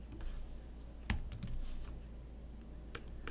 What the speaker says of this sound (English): I'm just typing these numbers down here kind of for my mental benefit